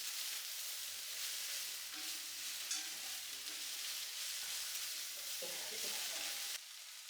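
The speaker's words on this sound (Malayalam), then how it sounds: "വെളിച്ചെണ്ണയിൽ കടുകും വറ്റൽമുളകും കറിവേപ്പിലയും കൂടി അതൊന്നങ്ങോട്ട് ഒക്കെ ഒന്ന് വഴറ്റിയെടുക്കാം" Mustard seeds, dried chilies and curry leaves sizzle and crackle in coconut oil with cabbage, under steady stirring. The frying runs continuously with no talk and drops off sharply near the end.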